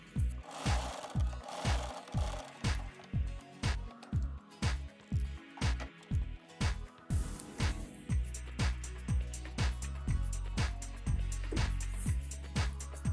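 A sewing machine stitches a strap for a baby cradle, thumping in fast, regular bursts of needle strokes. The strokes run close and clear, then settle into a denser, steadier rhythm near the end.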